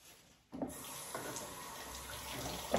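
Tap water gushes into a sink as apples are washed for a pie, a steady close hiss starting abruptly after a brief quiet moment and running to the end.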